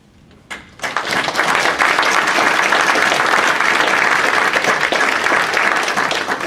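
After a short quiet moment and a thump, a large audience at an annual review event bursts into loud, sustained applause that stays full and even to the end.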